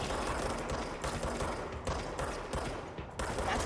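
Rapid gunfire in the action video game Control, dense overlapping bursts with short pauses, loud and close, no talking.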